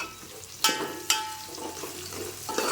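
Okra pieces frying in a pan for a fish curry, a steady soft sizzle with a couple of sharp utensil clinks against the pan, close and fairly quiet, with no talking.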